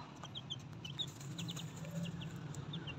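A hen clucks softly in short repeated bursts at a distance, quiet chirpy calls over a low background hum.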